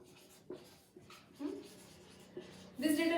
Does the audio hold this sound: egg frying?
no